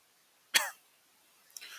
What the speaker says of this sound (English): Sorry guys, I'm getting cough.